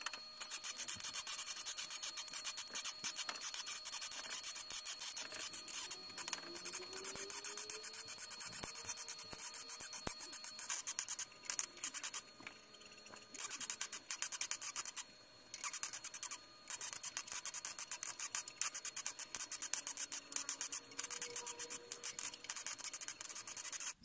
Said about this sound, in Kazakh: Сваркасы бітіп, бетін тегістеп жатырмыз.